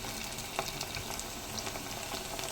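Pieces of taro root fry in oil in a covered pan, giving a soft, steady sizzle with faint crackles throughout and no voices.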